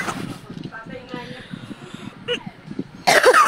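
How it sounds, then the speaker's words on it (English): A person coughing hard to bring up a swallowed nickel: scattered low rasping coughs under a babble of voices, ending in one loud, sharp, close cough burst. "I coughed the nickel out of me."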